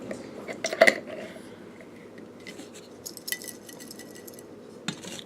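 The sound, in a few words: putting the lid on a spell jar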